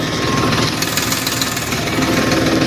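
Tractor engine pulling in second gear during field sowing on a farm, a steady loud low rumble with a throbbing mid-range drone that holds constant throughout, no voices over it.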